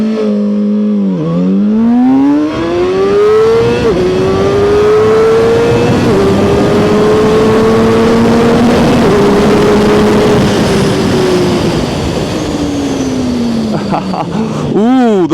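A ZXJC 500RR sport motorcycle engine revs up hard, pitch climbing steadily over several seconds, then drops before a sharp rev at the end; loud and close, with some voices underneath.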